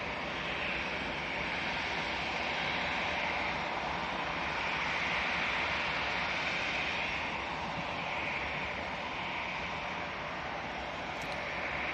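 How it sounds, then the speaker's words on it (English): An EasyJet Airbus A321neo at Manchester Airport, its jet engines giving a loud, continuous roar that holds steady for the whole stretch, with a broad rushing hiss and a slow swell and fade. "EasyJet making its way on. This will be another 321 Neo."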